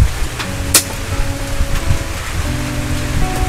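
Steady rain patters across a surface, a broad continuous wash with a few sharper drops and a faint low hum beneath.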